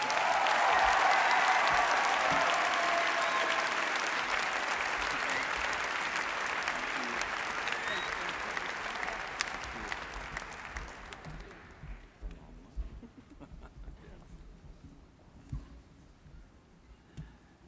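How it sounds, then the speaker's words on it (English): A General Assembly audience applauds warmly for a team, loud sustained clapping from a large crowd that gradually thins and fades out over the final seconds. "please give one more round of applause to your fabulous 2015 General Assembly Right Relationship team"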